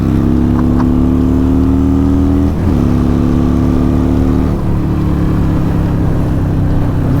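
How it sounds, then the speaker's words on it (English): Harley-Davidson Iron 883 fitted with a 1200 big bore kit accelerating hard, a loud, steady V-twin roar that rises in pitch, dips briefly at a short-shifted gear change, then climbs again, heard up close. "I'm actually short shifting it. I'm not even taking it to the upper RPM range."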